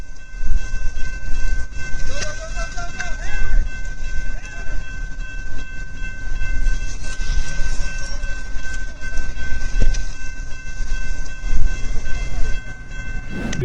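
A train rushes toward a car stuck on the tracks, a loud, continuous rumbling roar with a high steady tone and brief horn-like wails early on.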